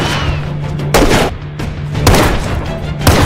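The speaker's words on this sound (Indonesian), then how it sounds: "Steve melepaskan tembakan hingga akhirnya terjadi peperangan besar" Bursts of gunfire ring out in an action film shootout, several loud cracking volleys at irregular intervals over a steady low hum, with booming impacts and no talking.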